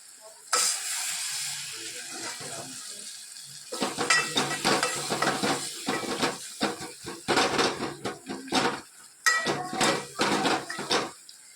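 Food with chili is stirred in a pan: a metal spoon clanks and scrapes against the pot in repeated bursts over a soft sizzle, close up, with no talking.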